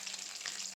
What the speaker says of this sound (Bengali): জালটা একদম কম করে দিয়ে আস্তে আস্তে ভাজতে হবে, যাতে মাংসগুলো সিদ্ধ হয়ে যায়।